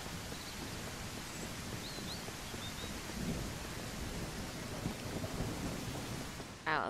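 Steady heavy rain and rolling thunder from a stormy scene in the survival game Mist Survival, a dense continuous wash of downpour with low rumbles throughout, ending in a sudden louder burst.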